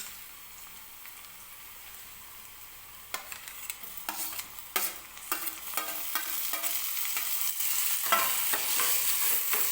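Tomatoes cooking with softened onion in hot oil for instant rava appe, a quiet steady sizzle that grows denser after a few seconds, punctuated by sharp spoon scrapes and stirring clinks, close by with no talk.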